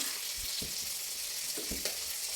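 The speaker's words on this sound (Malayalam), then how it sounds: "കടുക് വറുക്കുമ്പോഴേ അപ്പം ഇനി ഉപ്പൊക്കെ ഒന്ന് ചെക്ക് ചെയ്ത്" Mustard seeds fry in hot oil for a Kerala ash gourd curry, giving a dense, continuous sizzle with a few soft pops and stirring scrapes, close and steady throughout.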